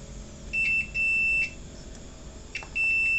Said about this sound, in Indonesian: yang satu ini bunyi buzzernya